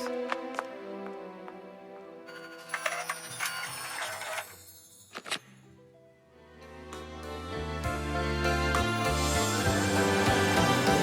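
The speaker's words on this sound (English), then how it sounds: "Sent to print to our printer." A cartoon printer prints a document with a run of whirring, clicking and mechanical chirps that shift in pitch, ending in a loud, busy, rhythmic churn with no talking.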